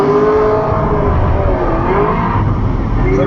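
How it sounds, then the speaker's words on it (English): A Tesla Model S drag races a police car, both loaded with four passengers, giving a loud continuous car sound with rising engine or motor tones under constant wind and road noise. "we're racing Jeremy's Faster Proms cop car"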